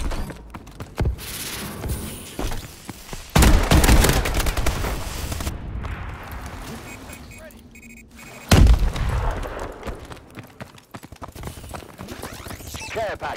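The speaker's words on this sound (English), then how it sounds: "Friendly missile strikes incoming." Missile strikes in Call of Duty Advanced Warfare Hardpoint mode, heavy booming impacts and rapid gunfire bursts in dense, chaotic layers, with announcer-style voice callouts between blasts.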